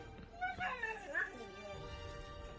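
A dog whimpers and yips softly while being petted indoors, thin high whines rising and falling over a couple of seconds, close by, with a person's voice murmuring underneath.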